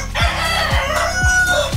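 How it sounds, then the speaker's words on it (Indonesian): An Ayam Cemani rooster crows in a coop, a loud nearby cock-a-doodle-doo running almost two seconds and carrying above faint clucking and other fowl noise. "Ayam hitam jenis cemani yang kerap disebut sebagai ayam mistis."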